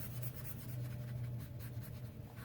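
A damp watercolor brush is drawn across watercolor paper, giving a soft, steady scratchy swish that runs continuously at close range and fairly low volume.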